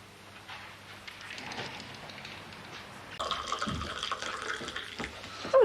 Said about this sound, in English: I was just pouring you a cup of tea.